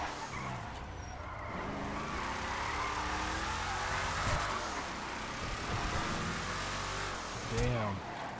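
An older car with drum brakes and about 3,196 miles accelerates hard, its engine note climbing in rising sweeps under road and wind noise, heard from inside the car, with a voice faintly present.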